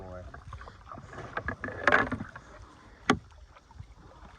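A boat paddled one-armed on a river near a dam, with dips and splashes of the paddle, a sharper knock near the end, and faint wind under occasional low speech.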